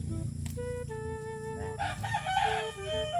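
A rooster crows nearby, a drawn-out rising and falling call that stands out clearly over faint background noise.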